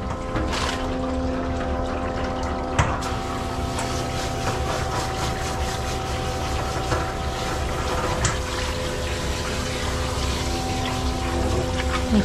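Steady running water rinses a Havanese dog during mobile grooming, a continuous spray and splash held at an even level throughout with faint brief sounds over it.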